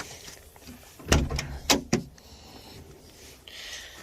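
A vehicle door being worked on during an upgrade for the Canning Stock Route gives a few sharp knocks and clunks over about a second, fairly close, with no talking.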